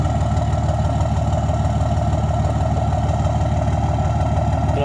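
A diesel engine with freshly rebuilt common rail injectors idles close by, a loud, steady low rumble with an even mechanical pulse throughout.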